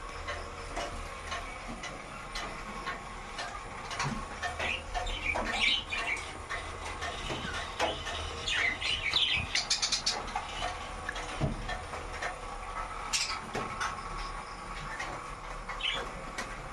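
A colony of budgerigars in Bongaigaon, Assam, chirping and squawking in bursts over a steady background hum, with sharp calls rising and falling throughout, moderately near.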